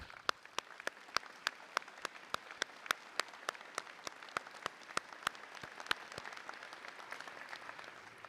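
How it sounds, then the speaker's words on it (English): An audience at a commencement ceremony applauds, with crisp individual claps in a steady, fairly sparse rhythm standing out over a soft wash of clapping that fades slightly toward the end. "Please join me in offering a heartfelt round of applause to your families and"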